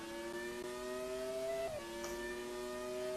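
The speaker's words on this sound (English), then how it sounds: "The scream of these engines." A Williams Renault FW18 Formula One car screams in the rFactor 2 racing sim, a high, steady whine that briefly rises, then drops sharply at a gear change before holding a high pitch again.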